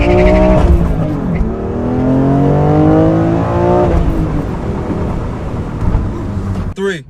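BMW M2 launching hard from a standstill, a loud engine roar that climbs in pitch through rising revs, drops briefly at a gear change, then pulls again before fading, heard from inside the car.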